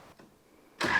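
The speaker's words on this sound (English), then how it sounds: "Theo's just firing up the tractor" A farm tractor on a self-sufficient homestead is started: a quiet clicking gap, then the engine catches with a sudden loud burst near the end.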